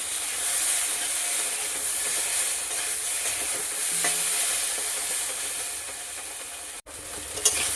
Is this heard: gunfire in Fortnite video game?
no